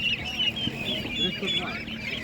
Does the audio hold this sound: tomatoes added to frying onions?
no